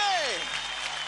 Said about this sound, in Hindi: जोरदार तालियां हो जाए शक्ति और मानव के लिए।